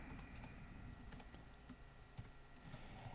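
Fast, faint clicks of typing on a computer keyboard while someone enters Java code, an irregular stream of small taps close by, with no talk.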